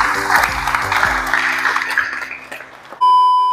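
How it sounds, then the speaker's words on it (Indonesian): Audience applause at a university rector election ceremony, dense broadband clapping with some background tones, fading over about three seconds and then cut off by a steady electronic beep. "Sekali lagi saya persilakan kita beri tepuk tangan yang meriah."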